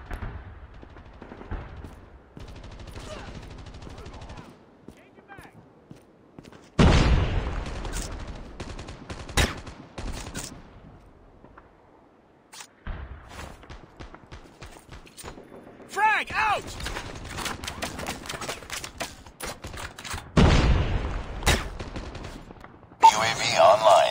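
Gunfire in the Call of Duty Mobile video game, with scattered single shots and short bursts from near and farther off, and a long quiet stretch between. Game voice lines and a player's talk come and go under the shooting.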